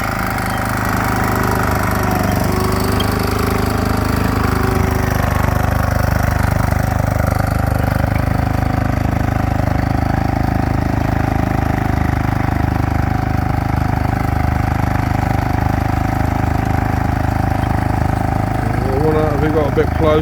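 A Bristol crawler tractor's diesel engine runs steadily at high revs during a ploughing day, a loud, continuous rough mechanical drone that fills the whole stretch without letting up.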